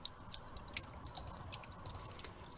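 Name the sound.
water pouring out of a VW T5 washer fluid bottle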